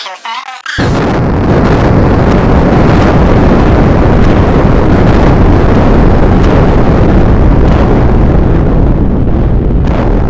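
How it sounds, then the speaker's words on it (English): Nuclear missile detonation effect: a sudden massive blast after a short tone, then a dense roaring rumble that rolls on at full loudness for ten seconds, harsh and wind-like. "The missiles have detonated."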